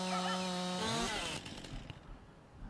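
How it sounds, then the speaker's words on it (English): A video game chainsaw from Farming Simulator 19 runs loud and steady while cutting wood, then drops away after about a second and a half. A faint rustle is left behind, and nobody speaks. "Takes a lot longer using chainsaws,"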